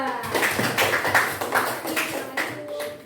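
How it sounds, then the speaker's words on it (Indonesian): A classroom group claps for a student team after its presentation, a busy burst of many hands tapping close by with uneven rhythm for about three seconds. "Kita tepuk tangan untuk kelompok 2."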